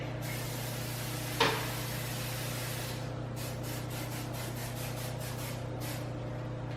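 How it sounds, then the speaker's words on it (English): Cooking spray is sprayed onto a pan over a sink in quiet hissing bursts against a steady background hum, with a brief knock of the can just before. "Spray the pan over the sink."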